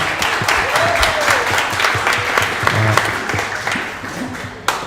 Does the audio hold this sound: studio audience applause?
yes